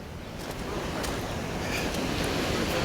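A waterfall heard outdoors as a dense, steady roar of rushing water, continuous and fairly close, with no voices over it.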